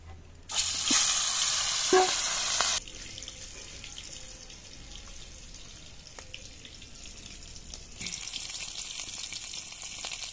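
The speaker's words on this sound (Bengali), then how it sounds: "মাছ ভাজার তেলেই মাছের মাথাটা ভেজে নেব।" Fish head frying in the same oil used for frying fish, a loud, dense sizzle for the first few seconds that then drops to a softer, steady crackle with a brief louder burst near the end; no talking.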